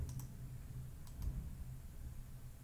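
A computer mouse clicks a few times, small dry taps close to the microphone against a quiet room hum, with a pair of quick clicks at the start and another pair about a second later.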